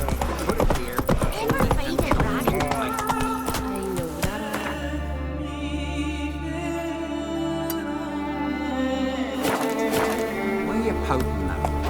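Geralt's horse Roach from The Witcher 3 gallops in a rapid, steady clatter of hooves, loud and close, with game music and ambient sound playing underneath.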